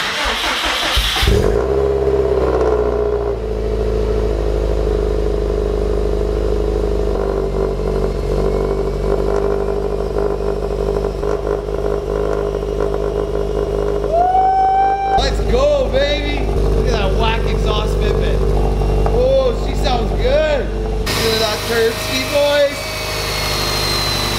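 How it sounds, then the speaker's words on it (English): Cold start of a 500 hp Subaru STI with a modified exhaust: the engine cranks and catches, then settles into a loud, steady, rumbling idle with a few sharp revs near the end, close by. "But just enjoy some good cold start noises."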